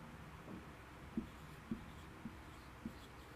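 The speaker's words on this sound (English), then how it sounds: "So, let's write it down here." Quiet taps and scratches of writing on a board during an English lesson, a handful of soft marker or chalk strokes spaced about half a second apart over faint room hum.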